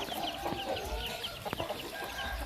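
Chickens cluck in short, scattered bursts at a rural home garden, moderately close, over a steady outdoor background.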